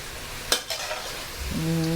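Crispy fried tofu dropped into a stir-fry of bean sprouts and minced pork, with a sharp clatter, then steady close sizzling and stirring and a rising hiss near the end.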